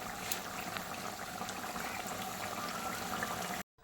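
Chicken, freshly washed and cooked down with spices, bubbling in a pot as a steady close simmer with soft popping and hissing, continuous until a brief silence near the end.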